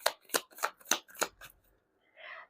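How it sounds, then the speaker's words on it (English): Tarot cards being shuffled close up, five quick crisp riffling bursts in a steady rhythm, then a short pause and a softer final rustle. "You saw me shuffle, right?"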